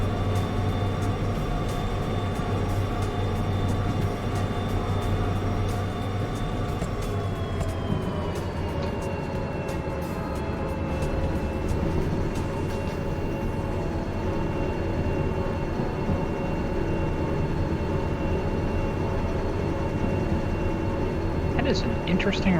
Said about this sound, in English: I may need to refuel these locomotives when I get to the steel mill.